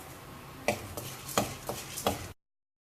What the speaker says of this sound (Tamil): இப்போ இது செவக்க வறுத்தோன்னே இதோட சீரகம் சேர்த்துக்கலாம்.